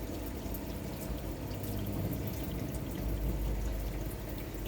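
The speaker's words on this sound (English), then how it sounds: "So put on hot, just get the water out of the boiler." Water drains from a Trekker motorhome's boiler and runs out through the shower, a steady, continuous splashing flow at low volume with no talking.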